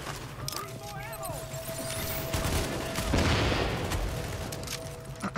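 Gunfire with explosive rounds in The Division, set at Madison Square Garden: a steady rattle of shots and booming impacts that swells toward the middle, layered with game noise and an ongoing tone.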